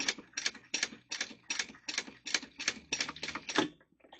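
A sewing machine bastes a zipper onto a mini wristlet at an eighth-inch seam, giving a close run of rapid, evenly spaced stitching bursts that stops briefly near the end.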